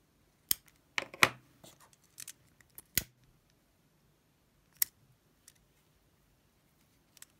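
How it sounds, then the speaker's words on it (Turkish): Scissors snipping through macrame cords while making an infinity-knot bracelet: a handful of sharp, separate cuts close by, clustered early and then spaced out, with quiet gaps between and no talking. "Bu bitirdiğimiz makreme iplerini de kesip yapıyoruz."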